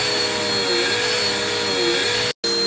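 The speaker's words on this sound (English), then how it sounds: "You know you don't have to vacuum everything" Vacuum cleaner running, a loud steady whirring drone with a high whine that wavers slightly in pitch, cut off abruptly for a moment near the end before resuming.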